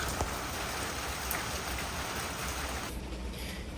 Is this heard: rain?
yes